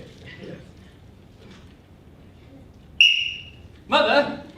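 A sharp referee-style whistle blast signals the start of a timed contest at a televised competition show, followed about a second later by a louder, broader burst of sound, with low background murmur beforehand.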